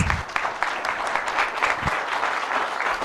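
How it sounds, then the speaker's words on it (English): A crowd applauds steadily at a TEDx-style talk event, a dense wash of clapping hands that holds at an even level throughout with no talking. "Please give a huge round of applause."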